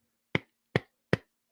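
A screwdriver taps hollow fiberglass boat gel coat in four evenly spaced knocks, each a dull, short, low thud without ring, close up and alone.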